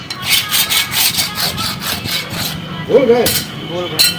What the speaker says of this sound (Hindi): हाँ, चेला साफ कर रहा है कमानी।